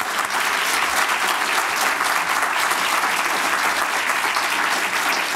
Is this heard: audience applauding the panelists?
yes